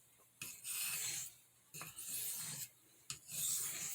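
A large Stockman pocketknife blade is honed on a soft Arkansas oilstone, three quiet rasping strokes, each a smooth scraping sweep separated by brief pauses, close and alone.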